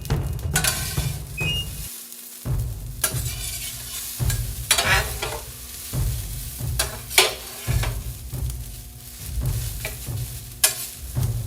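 Sliced serrano peppers sizzle on a Vevor 22-inch 1600W electric flat top griddle, with a steady fry and frequent spatula scraping and stirring strokes, and a short pause near the start.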